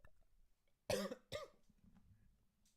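Two sharp coughs in quick succession, close and loud, then quiet low murmuring.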